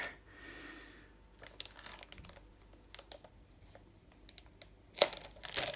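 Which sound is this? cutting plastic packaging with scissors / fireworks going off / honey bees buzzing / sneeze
cutting plastic packaging with scissors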